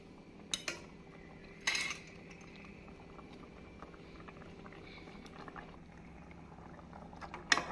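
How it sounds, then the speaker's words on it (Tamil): Roasted nuts go into rava bhirni pudding in a pan: a few sharp, close clinks and clatters of a utensil against the pan stand out over a faint, steady simmer. "இப்பொழுது இந்த சமயம் நாம் வறுத்து வைத்திருக்கும் நட்ஸ்களை போட்டுவிடலாம்."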